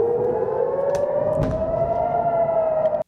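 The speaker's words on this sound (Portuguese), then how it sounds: "O ruído da guerra foi substituído pelas buzinas dos engarrafamentos e pelas sirenes das ambulâncias" An ambulance siren wails steadily at a sustained, slowly shifting pitch, loud and continuous, cutting off abruptly at the end.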